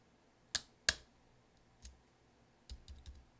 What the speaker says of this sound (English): we're just going to press down until we hear it click